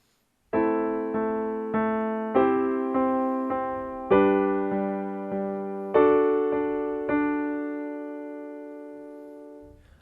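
A piano plays a passage, with sustained chords struck one after another in a slow, even rhythm, the final one left to ring out and fade, close and alone.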